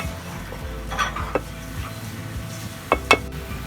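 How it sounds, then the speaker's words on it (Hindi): Carrots and capsicum are stirred in a pan for fried rice, giving a soft sizzle under scraping and a few sharp clinks of a utensil against the pan. "मैंने गाजर को और शिमला मिर्च को इसमें डाल के मिक्स कर लिया अच्छी तरीके से"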